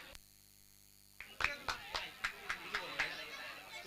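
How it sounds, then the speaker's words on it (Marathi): Several sharp hand claps ring out over a cricket-tournament commentary setting, a short burst of roughly ten evenly spaced claps following a quiet start, with faint crowd murmur underneath. "टाळ्या."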